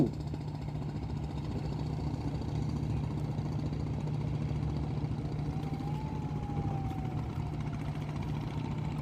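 The engine of the river launch MV9 Mim 2 throbs in a steady low rumble with a faint rising whine partway through, heard continuously from on board with no talking.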